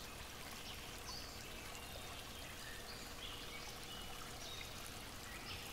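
A woodland stream lined with lush vegetation and yellow irises flows steadily and fairly quietly, giving a continuous watery rush. Faint bird calls are heard in the background.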